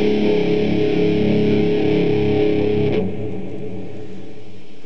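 Overdriven electric guitar plays an intro riff, a loud, thick, distorted chug on the low open strings that rings close and alone before being cut off near the end.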